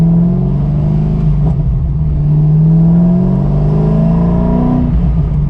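A loud, close C5 Corvette engine with no catalytic converters and a Z06 titanium exhaust revs up steadily, its pitch rising and then dropping as it shifts gear at 3500 rpm, then climbing again.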